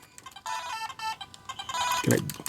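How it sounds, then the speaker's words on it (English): Electronic telephone ring from a Data East video game, a rapid warbling chirp repeated in short bursts, fairly loud and close, with a brief voiced sound near the end. "Oh, the phone's ringing."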